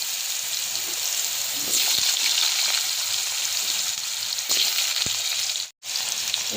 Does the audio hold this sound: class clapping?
no